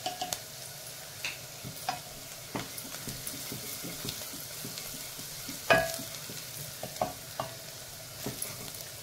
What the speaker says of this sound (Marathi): इथे तुम्ही बघू शकता कांदा चांगला भाजून झालेला आहे